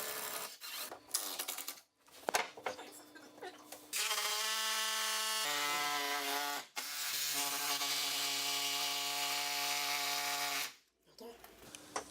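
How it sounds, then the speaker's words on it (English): A hammer drill drilling into a wall whines steadily for several seconds at a time, its pitch stepping between speeds, with brief pauses and handling noise between bursts. "so we can use the hammer drill"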